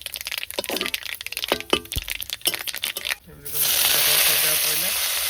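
Chopped greens (saag) frying in a pan: crackling and popping under talk at first, then a loud, steady hiss of sizzling as the leaves hit the hot oil.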